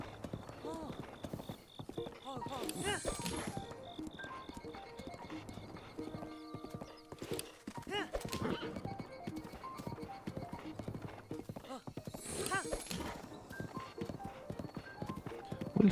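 A horse gallops in the video game Breath of the Wild, with rapid rhythmic hoofbeats running steadily throughout and occasional whinnies, while a person talks over the sound.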